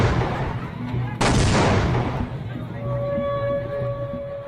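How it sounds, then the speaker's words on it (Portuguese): A Portuguese gunboat's cannon fires on a city, a single heavy boom followed by a long, loud rumbling blast that fades, with a steady droning tone and murmuring voices underneath. "uma canhoneira portuguesa começou a atirar contra o povo e a bombardear a cidade"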